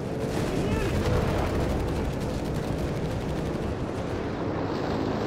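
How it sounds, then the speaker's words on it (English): Heavy gunfire and artillery from the Company of Heroes 3 video game, a dense, loud, continuous roar of overlapping shots and booms that holds steady throughout. "Heavy fire there"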